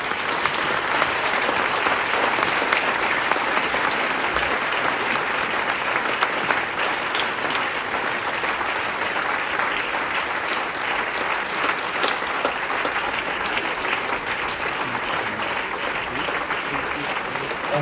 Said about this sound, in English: a round of applause for our audience